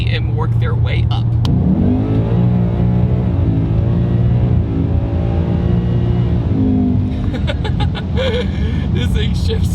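A supercharged 2019 Ford Mustang GT Loki build accelerates hard, its engine note climbing through the revs with quick gear shifts, loud and close, while a voice talks over it.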